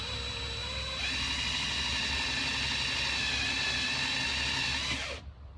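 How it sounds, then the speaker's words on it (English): A cordless drill bores a 5/16-inch through hole in stock, running at a steady high whine that rises in pitch after a second, holds for about four seconds, then cuts off abruptly as the bit breaks through. "I'm going to slowly begin to drill, allowing the bit to do the work"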